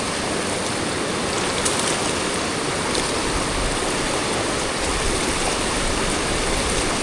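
Siddheshwar waterfall and its swollen stream pour in heavy rain, a loud, dense, unbroken roar of rushing water and falling rain that holds steady throughout, with no voices.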